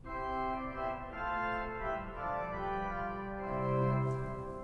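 Solo registration on a 1906 Felgemacher pipe organ combining Nasat, terz and 2 foot stops, producing a sharp, glittering tone; held notes and a slow melodic line sound continuously and clearly in a reverberant space without voices.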